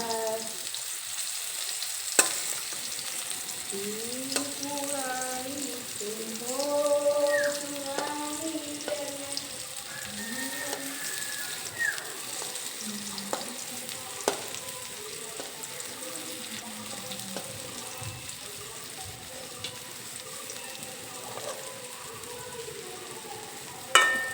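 Pumpkin slices frying in a covered pan give a steady, low sizzle under a hum of background sounds, with a few sharp clicks and a person softly humming a tune for part of the time.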